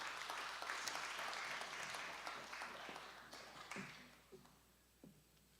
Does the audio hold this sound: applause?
yes